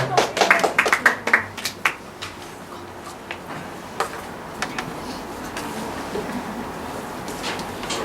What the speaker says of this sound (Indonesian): Untuk Bapak Pendeta Asas kita sambut dengan tepuk tangan.